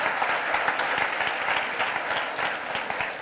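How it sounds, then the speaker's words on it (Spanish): A church congregation claps steadily for about three seconds, dense sustained applause with no voices over it. "Dale este aplauso al Señor"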